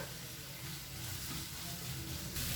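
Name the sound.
curry leaves sizzling in hot oil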